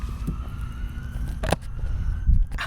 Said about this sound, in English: I don't even know why my neighborhood has all these sirens and cops and other things